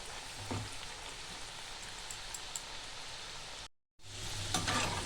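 Potatoes for homemade French fries frying in hot oil, a continuous rain-like sizzle with occasional stirring knocks, cut by a brief dropout before the hiss resumes.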